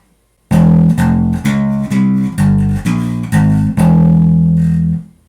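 A distorted bass guitar chugs through the first measure of a harmonic minor metal riff, seven notes, the last one ringing out longer, loud and up front.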